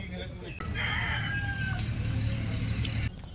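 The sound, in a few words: rooster crowing in Nepali Terai village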